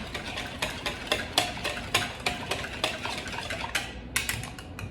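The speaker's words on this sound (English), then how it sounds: "I'm just gonna whisk" A whisk beats a spicy sauce for a holiday appetizer in a bowl, a quick, regular run of light metallic clicks and scrapes, close and fairly soft, without talk.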